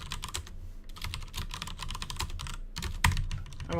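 Rapid clattering keystrokes on a computer keyboard while code is written for a Zig scripting language, with steady, close, uneven bursts of clicks and a sharper tap near the end.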